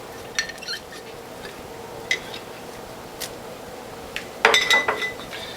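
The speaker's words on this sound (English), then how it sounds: "So I'll take a spatula here and get the rest of that precious apple pulp out of there." A spatula scrapes apple pulp out of a kitchen container, making sparse light clinks and short scrapes against a quiet background, with a brief cluster of louder clatter near the end.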